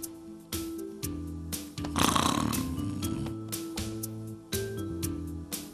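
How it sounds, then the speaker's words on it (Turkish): A man snoring loudly, a series of rough rattling snores repeating in a regular rhythm, close and prominent with no talk over them. "Nasıl bir horlamadır bu?"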